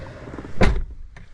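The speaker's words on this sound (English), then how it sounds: "I'm going to shut the door." A car door on a 1991 Honda Accord slams shut with one solid thunk, close and loud after some faint handling rustle, with a small click following.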